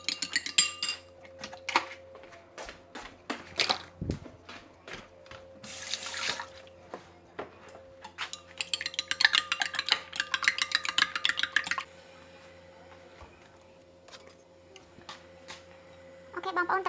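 Eggs are beaten in a bowl for egg drop soup, producing a quick run of rapid clicking taps of a utensil against the bowl among scattered kitchen clatter, close and fairly quiet.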